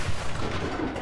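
A Churchill III tank gun in the video game Enlisted fires with a loud, heavy boom, and its rumbling blast fills the short moment.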